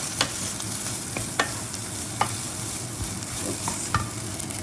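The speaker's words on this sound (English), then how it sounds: "Stir fry it up." Rice and bacon being stir-fried in a pan: a steady sizzle with scattered scraping clicks from a utensil tossing the rice, close and continuous, with no talking.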